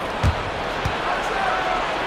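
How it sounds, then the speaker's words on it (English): A slam dunk in a Boston Celtics versus Philadelphia 76ers basketball video game, with a sharp thump of the jam near the start and further thuds of play beneath steady game commentary and a low crowd murmur. "And it's slammed in by Holiday"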